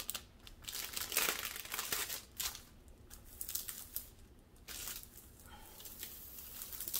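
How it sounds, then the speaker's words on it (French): A plastic protective sheet is peeled back from a diamond painting canvas, giving close, continuous crinkling and crackling with a few louder tearing-like bursts and no voices. "vous pouvez essayer d'enlever ces plis en enlevant la fiche plastique"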